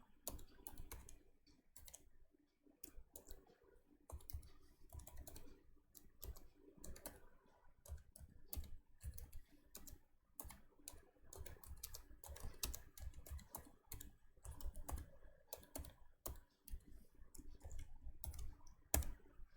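Keys clatter on a computer keyboard as a line of C code with printf is typed, giving quick uneven runs of close, soft clicks with short pauses, alone without speech.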